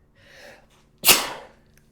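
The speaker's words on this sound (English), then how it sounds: "So I'll sneeze again." A single sharp sneeze up close, preceded by a soft breathy intake, then fading quickly into quiet.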